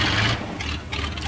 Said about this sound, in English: I'll press Control E for engine to start the engine.